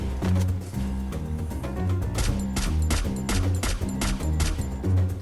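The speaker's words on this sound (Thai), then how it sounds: "ไอ้ นี่ก็ยิงจังเลย" Rapid video-game gunfire rattles in repeated bursts through the whole stretch, loud and dense over a pounding in-game music track, with no talk.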